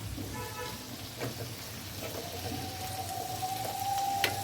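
Tomatoes hit a pan of frying onion and capsicum and are stirred in. A steady close sizzle fills the pan, with soft scraping stirs and a faint tonal hum running underneath.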